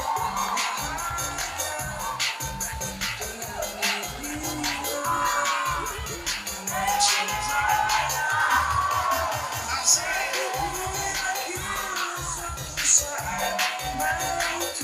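Applause from an outdoor crowd honouring the Garut Regency agriculture office at a Batik Garutan fashion show during Garut Festival 2022: dense, steady clapping with scattered cheers and whoops, sustained across the whole stretch over a rumbling background.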